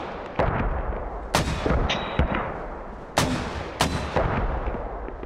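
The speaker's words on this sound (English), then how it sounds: "we're gonna try and get mortars on it for you." Mortar rounds fired in a military video game, several loud sharp blasts spaced irregularly with rumbling tails, close and dominant, no talking.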